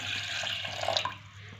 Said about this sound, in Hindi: सबसे पहले मैंने लिया है एक सॉस पैन और इस सॉस पैन के अंदर मैं डाल दूंगी पानी